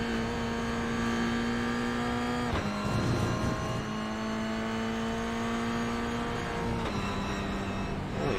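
Toyota GR86 in a racing sim game, engine revving hard and climbing through gear changes, a loud steady whine that drops sharply at each shift, with no talking.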